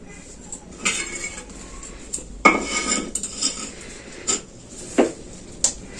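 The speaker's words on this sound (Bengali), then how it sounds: "এবার আমি প্রথমেই বাঁধাকপিটা কুটে নেবো" Cabbage being chopped with a knife in a home kitchen, a series of sharp, irregular chops and clacks against a board, close and moderately loud, with quieter scraping between strikes.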